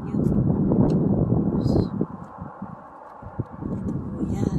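Strong spring wind blowing outdoors in Edmonton, a steady loud low rumble and gusting roar buffeting the microphone throughout, easing slightly midway before surging again.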